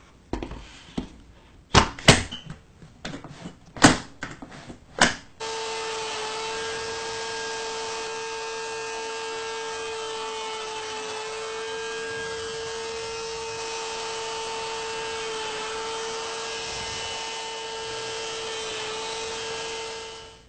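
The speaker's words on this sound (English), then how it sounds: "there's no faster way to drill perfect shelf pin holes." A router fitted in a shelf-pin drilling jig with a router guide, spring-loaded indexing pin, T-track and pegboard: a few sharp bursts as holes are plunged, then a steady, loud, high motor whine running alone for about fifteen seconds.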